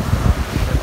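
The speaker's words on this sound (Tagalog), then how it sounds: "Sobrang mahangin." Strong wind buffets the microphone at the seaside on a hot day with heavy waves, a continuous low roar of gusts filling the moment with no talk.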